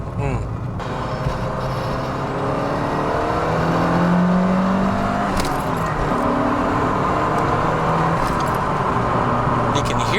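A yellow limited-edition Lancia Delta HF Integrale Evoluzione II engine revs loud and close, its pitch climbing and falling in steady sweeps, with a voice partly audible beneath the engine.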